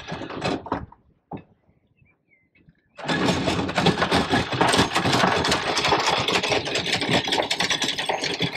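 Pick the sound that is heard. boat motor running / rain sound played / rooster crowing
boat motor running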